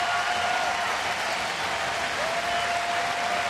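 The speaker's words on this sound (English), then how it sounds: "Pat on the back from the manager and a nice round of applause" Baseball crowd at a Colorado at Toronto game gives a sustained round of applause for departing pitcher Rogers, a broad continuous roar of clapping from a large stadium audience with a faint tone sweeping through partway.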